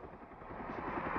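A helicopter hovers over a forest while it airlifts logs on a long line, giving a steady rotor rumble with a faint pulsing beat, continuous and moderately distant.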